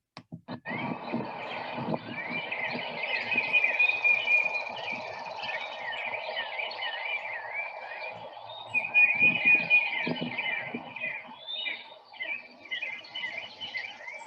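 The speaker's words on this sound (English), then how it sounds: "there's a whole lot of birds in that one. So I heard Peter, tufted titmouse. I heard blue jays. I heard a chipping sparrow." Recorded spring birdsong with a tufted titmouse, blue jays and a chipping sparrow, a busy mix of repeated clear whistles, chirps and trills at moderate distance, continuous over about fourteen seconds with some low background rumble.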